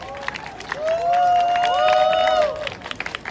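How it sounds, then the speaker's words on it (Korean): Crowd at an outdoor Palestine solidarity rally in Korea cheering and clapping after a speaker, a broad wash of applause with a long sustained whistle or shout rising over it, continuous and fairly loud. "좋은 말씀 나눠주신 타리님께 다시 한번 큰 박수 함성 부탁드립니다"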